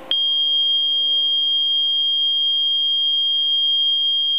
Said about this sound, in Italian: accendo l'allarme verde